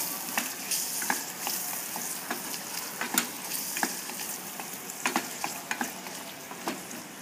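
Onions and mushrooms fry in a saucepan, a steady sizzle running throughout while a utensil stirs through them with scattered scraping clicks.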